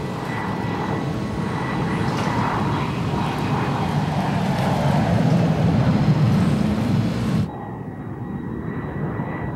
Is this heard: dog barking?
no